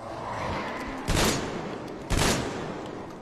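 Two separate gunshots from a firearm in the video game Metro Exodus, fired about a second apart, each a sharp loud burst that rings out over a steady low ambient bed.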